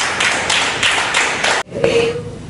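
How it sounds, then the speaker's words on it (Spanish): A church congregation applauds during a sermon in a loud, dense wash of clapping that surges in rhythmic waves, then cuts off abruptly before a brief quieter stretch. "Denle un aplauso fuerte al Señor Jesucristo."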